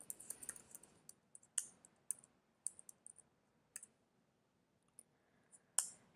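Quiet keystrokes on a computer keyboard while coding JavaScript, with scattered light clicks and taps in irregular bursts and short pauses, close and faint with no talking.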